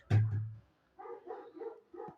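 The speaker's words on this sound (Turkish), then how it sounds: "Dışarıda köpek var o avlıyor sürekli." A single sharp dog bark, followed by a short run of muffled, rhythmic barks a little farther off.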